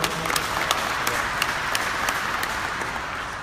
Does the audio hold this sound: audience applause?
yes